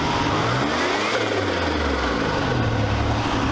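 Turbocharged engine of a minivan revving with the hood open, a steady loud roar that rises and falls through one sweeping rev, close by with no talking.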